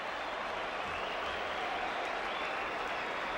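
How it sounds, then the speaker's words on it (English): Baseball crowd at a Phillies at Cubs game in 1997 breaking into steady applause and cheering, a dense, continuous wash of clapping and voices holding at an even level throughout. "the crowd reacts"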